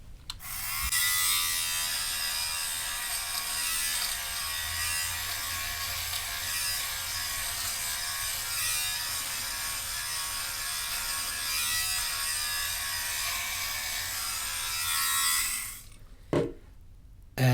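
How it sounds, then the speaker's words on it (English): A buzzing electric sweater shaver runs steadily for about fifteen seconds, its motor and spinning blades removing pills from knit fabric, close and continuous, then cuts off with a couple of brief handling knocks. "I'll turn the original sound back on so you can hear a little bit of the motor running and"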